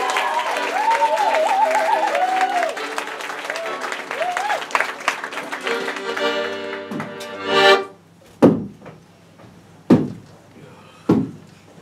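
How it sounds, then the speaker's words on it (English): Audience applause at an improv comedy show, a dense burst of clapping with a voice over it that thins out, followed by a few loud thumps and knocks. "Please put your hands together in what is commonly known as applause for Filbert Marigold and the bunting king."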